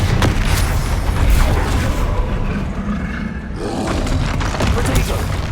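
Bombarda blasting spell cast in Hogwarts Legacy, a loud booming roar that rumbles continuously through the clip amid busy combat noise, with a player's voice talking over it.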